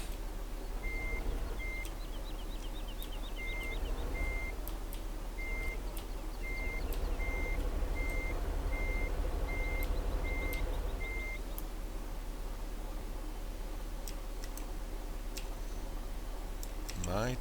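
A truck on a farm with straw bales reverses with a steady repeating backup beeper for about eleven seconds over a constant engine rumble, with clicks and faint speech in the background.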